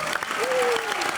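A studio audience at a Hindi comedy talk show bursts into brief, dense clapping that lasts about a second, with a voice briefly rising over it.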